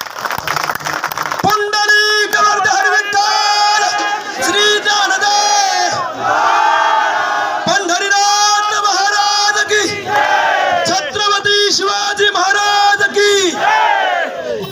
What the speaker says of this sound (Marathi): एकदा शिवरायाच्या नावानं टाळी वाजवा